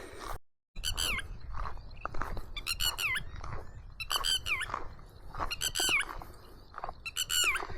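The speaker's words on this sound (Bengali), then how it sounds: "চারিদিকে দেখুন একটা পাখি দেখতে পাচ্ছি। এই পাখিটা না বক না মাছরাঙা, একদম অচেনা একটা পাখি লাগছে।" An unfamiliar bird, neither heron nor kingfisher, calls near a riverbank on a river island by the Bangladesh border: repeated bursts of shrill, squeaky, warbling notes over faint background noise.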